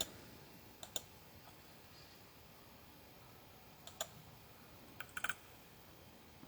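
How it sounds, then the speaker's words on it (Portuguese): A computer keyboard being typed on, with a few sparse, faint clicks and taps spread over a quiet, hissy room background. "Digitando o endereço da CNBB."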